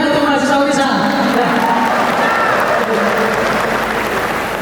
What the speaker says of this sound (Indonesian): Tepuk tangan untuk mahasiswa UNESA.